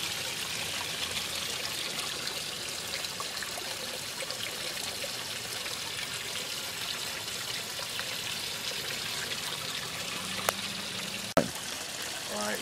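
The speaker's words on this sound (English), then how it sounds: "this is my koi pond. It's made in my old sandbox." Steady water trickling and splashing into a backyard koi pond built in an old sandbox, a continuous close wash of running water with a brief click near the end.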